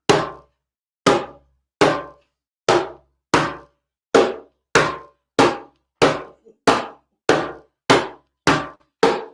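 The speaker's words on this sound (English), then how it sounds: "I'm going to play a bass." Fourteen deep, dull bass tones struck with the left hand on a hand drum, a steady beat of roughly one hit per second, each a short thud that dies quickly, close with nothing else heard.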